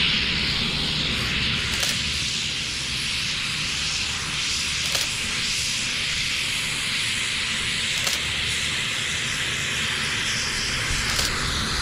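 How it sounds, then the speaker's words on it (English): A propeller airplane drones overhead, a steady broad engine roar with hiss holding throughout, no voices, with faint periodic clicks over it. "I'm going to take a couple of shots of the plane as it passes, just so that I can get the spin of the"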